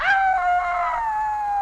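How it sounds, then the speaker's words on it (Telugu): A dog howls outside at night: one long, loud wavering howl that starts high and slowly slides lower, close by and heard alone against a quiet background. "అదే ఇందాకడి నుంచి అట్టాగే మరుగుతున్నా కుక్క"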